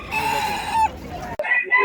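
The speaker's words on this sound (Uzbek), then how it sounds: "Ikkita makiyon, bitta xo'roz ekan." Hens and a rooster at a busy poultry bazaar, with close, loud clucking and crowing calls bunched in a quick sequence.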